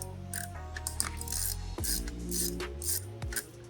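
A hand ratchet wrench clicking while a fender tidy is installed on a Honda Grom motorcycle in a home garage, with repeated quick bursts of pawl clicks and faint metallic clinks, close and fairly quiet.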